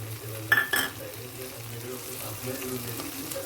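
Mint and coriander leaves fry with coriander powder, garam masala, kasuri methi, shahi jeera and poppy seed powder in a prawn biryani pot, a low steady sizzle with a couple of brief clatters near the start, under a soft hum of background music.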